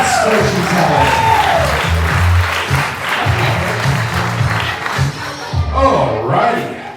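Loud, dense audience applause at a comedy mentalist show, continuous clapping with a few whoops, close and full throughout before easing slightly near the end.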